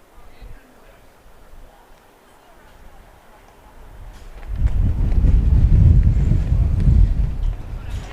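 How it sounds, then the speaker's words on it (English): Heavy wind buffets the microphone at an outdoor varsity high school baseball game, starting as a low rumble and swelling into loud, sustained roaring gusts over the last few seconds, with no talk. "You can hear the wind as well."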